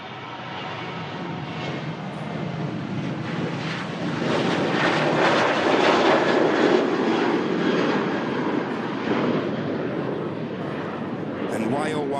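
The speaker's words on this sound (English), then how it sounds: "Here we go, TUI 737 on the takeoff roll from 2-3 right" A TUI Boeing 737, about fifteen years old, accelerates down the runway on its takeoff roll, a broad steady engine roar that swells louder midway and holds, with wind buffeting the microphone and a voice talking over it.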